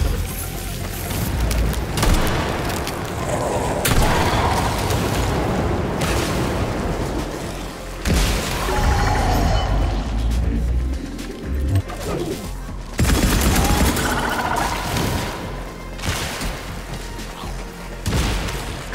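Shotgun blasts against robots in Atomic Heart, a series of loud booming shots every few seconds amid dense combat noise, with no voices heard.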